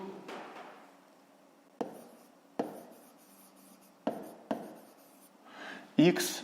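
A pen writes on paper in short scratchy strokes separated by sharp taps, close and fairly quiet, with a voice in the room.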